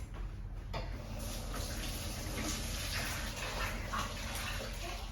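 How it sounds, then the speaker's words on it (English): Hands being washed under a running kitchen tap while baking oatmeal cookies, a steady close rush of water with faint splashing throughout. "Now wash my hands."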